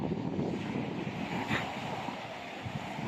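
Continuous rush of rough sea waves and wind buffeting the microphone as a storm approaches, a broad steady roar with no voices.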